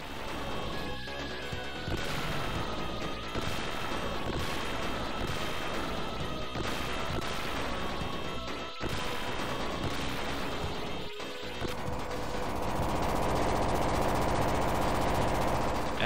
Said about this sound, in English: Everything just explodes and it's glorious